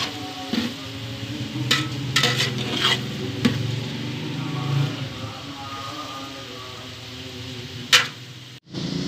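Chicken browns and fries in a pot for a home-made chicken pulao, giving a steady sizzle with scraping stir strokes and occasional clinks of a utensil against the pot. It sounds close, and no one speaks.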